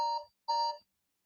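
A quiz countdown timer ends with an alarm that sounds two loud, electronic tonal beeps, each about a third of a second, then falls silent.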